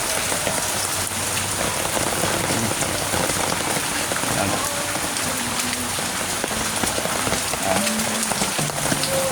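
Steady heavy rain pours down in a storm, drumming on a surface continuously and loudly with a dense wash of drops, no talking heard over it.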